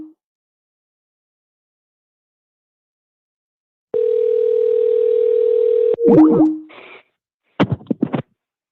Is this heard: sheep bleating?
no